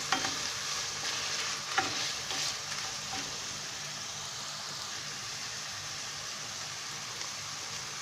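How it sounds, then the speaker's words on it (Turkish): Onions sizzle and fry steadily in a hot pan, with a few scraping stirs early on, close and continuous. "Soğanlarımı da kavuruyorum."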